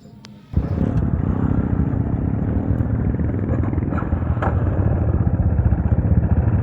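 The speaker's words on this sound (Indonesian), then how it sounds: "Tuh ada motor sono." A motorcycle rides along a forest road on a hillside near Gunung Geulis, Bogor; a loud, steady engine drone starts abruptly and continues close up throughout.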